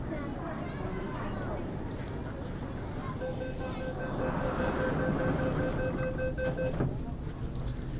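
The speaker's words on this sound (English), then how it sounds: "There goes the R train over there." An MTR train passes on a nearby rail line in Hong Kong, heard from aboard a Tuen Ma line SP1900 train: a steady rumble and rail noise with rising whine tones in the middle, under a constant crowd murmur.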